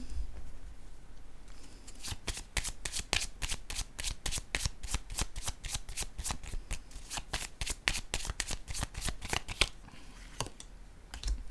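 Tarot cards are shuffled by hand in a quick riffling run. Dozens of crisp, evenly spaced flicks come close up and end with a few slower taps.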